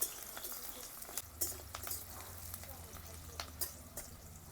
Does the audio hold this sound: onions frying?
yes